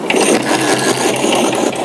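A 1956 BSA BB31 motorcycle engine runs after being started by hand, a steady close rapid mechanical chatter filling the short stretch.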